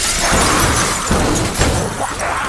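A door shattering as zombies burst through in a film scene, a loud, sustained crash of breaking debris with sharper impacts scattered throughout.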